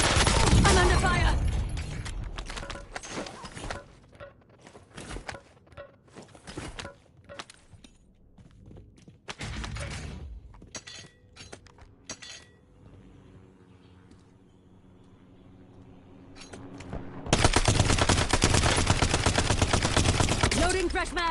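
Video game gunfire in Call of Duty: Black Ops 7, with dense bursts of automatic fire, scattered single shots and a sustained loud volley at the end, under intermittent voices.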